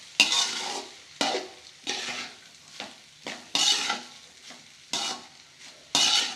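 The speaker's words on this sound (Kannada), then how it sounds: "ಅದಕ್ಕೆ ಸ್ವಲ್ಪ ಹೈ ಫ್ಲೇಮಲ್ಲಿ ಇಟ್ಟು ಮಿಕ್ಸ್ ಮಾಡಿ" Egg fried rice being stirred and tossed in a pan over high flame, bursts of sizzling scrapes repeating about once a second, loud and close, with no talking.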